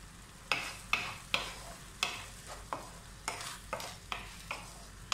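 Almonds, about fifteen, sautéing in a pan for butter chicken masala, with a steady soft sizzle and a regular series of scraping stirs, roughly one every half second, close and moderately loud with no talk.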